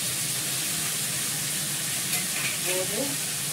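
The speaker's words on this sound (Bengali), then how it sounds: "নুন দিয়ে ভালো করে ভাজবো।" Potatoes with salt frying in a wok, a loud steady sizzle and hiss with faint stirring scrapes, close up, with a brief murmur of voice near the end.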